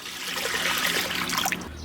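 Water is poured over dried salted meat (uppu kandam) in a pot for a curry, a steady close splashing trickle that runs evenly for about two seconds.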